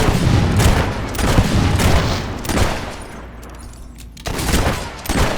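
Dense volleys of gunfire from a Fable 3 battle crack out in rapid overlapping bursts, loud and close, with a brief lull near the four-second mark before the shooting resumes.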